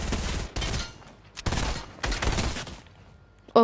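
Bursts of video game gunfire come in rapid clusters, loud, sharp volleys separated by short quieter gaps, ending in a final abrupt burst with a brief tonal game sound.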